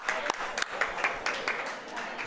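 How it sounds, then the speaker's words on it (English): A few people clap at an outdoor bocce tournament, with sharp individual claps in an uneven rhythm, close and moderately loud, over a faint background murmur. "I'm going to clap for that too."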